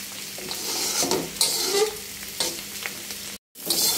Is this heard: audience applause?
no